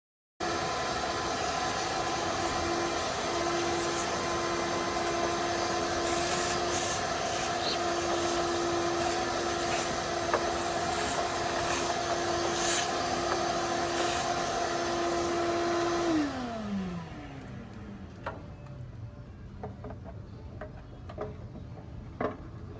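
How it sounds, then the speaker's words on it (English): A shop vacuum runs loud and steady, sucking debris out, then switches off and spins down with a falling whine. Faint clicks and knocks follow in the quieter room. "You're going to get your vac, turn it on, and just suck everything out."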